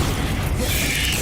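A Bombarda explosion spell goes off in Hogwarts Legacy, heard as a loud, dense blast of rumbling noise that fills the whole short moment, with a brief higher whoosh partway through.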